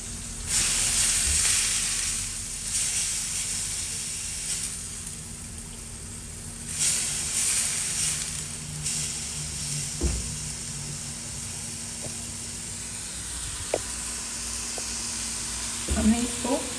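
Capsicum and carrots fry on high flame in a pan, giving a steady close hiss and sizzle with occasional clinks of a utensil, while someone talks over it.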